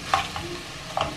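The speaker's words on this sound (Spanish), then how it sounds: "quiero que la cebolla se sofría bien" Onion sautés in a pan under a soft, steady sizzle, with two distinct stirring scrapes close by.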